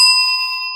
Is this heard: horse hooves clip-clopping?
no